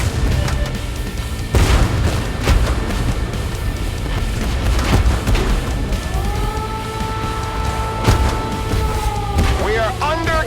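Tank gunfire and artillery bombardment in the video game Tank Force: repeated heavy booms and blasts over a constant rumbling engine drone, with rising siren-like whines near the end; voices speak through the clip.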